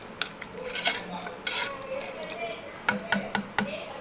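Cooked brinjal being mashed in a pressure cooker for kathirikai kadayal, with scraping strokes and sharp metal clinks of a masher against the cooker, several quick knocks near the end, under quiet background talk.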